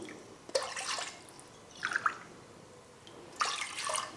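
Water is poured into a cooking pot for kodo millet in three short splashing bursts with quiet gaps between them, heard close and alone.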